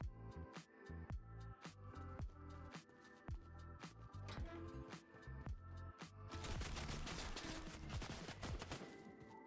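Fortnite gunfire aimed at the player arrives as a rapid string of sharp, evenly spaced shots. Denser firing and clatter follow near the end.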